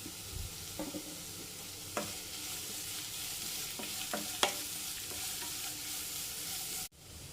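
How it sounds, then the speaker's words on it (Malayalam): Sliced onions sautéing in oil in a pan, a soft steady sizzle broken by occasional scraping spoon strokes, close and fairly quiet, ending abruptly, no voices. "ഇനി ഇളക്കി കൊടുക്കണം നല്ലപോലെ ഈ എണ്ണയിൽ കിടന്നതൊന്ന് നല്ലതുപോലെ വഴണ്ട് വരണം"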